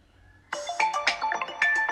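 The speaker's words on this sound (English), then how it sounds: "when I tap on play sound, you may hear it ringing" A lost Android phone rings close by through its remote play sound tracking feature, a short bright melodic ringtone that starts abruptly after a near-silent moment and repeats in quick chiming notes.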